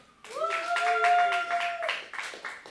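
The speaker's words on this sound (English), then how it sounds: "clap for Sebastian" A small audience at an institute lecture gives a brief round of clapping for the speaker, a handful of distinct, fairly quiet claps in loose rhythm, with a sustained voice-like tone heard over the first part.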